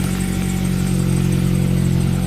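Car engine at an insurance auto auction, running at a steady rough idle with a loud low rumble and a faint clatter, close by, with no talking.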